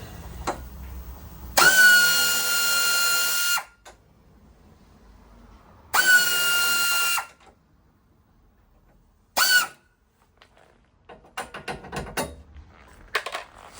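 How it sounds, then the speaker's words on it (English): An air or power tool loosening 13 mm bolts on the nudge bars of a classic Fiat 500: three loud bursts of whirring, the first two about two seconds long and the third a brief blip, then some lighter clattering. "Now we'll loosen the bolts on the nudge bars and then just work our way across."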